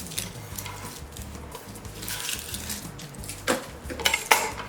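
A knife cuts the ends off halved onions on a cutting board, with several sharp taps and clicks near the close, the loudest two toward the end, over steady kitchen clatter.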